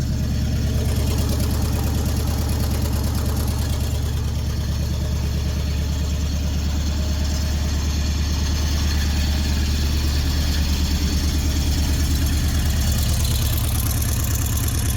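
A 70-year-old Dodge Super Red Ram Hemi engine runs at a steady idle, a loud continuous low rumble with a fine rapid pulse throughout and no talk over it.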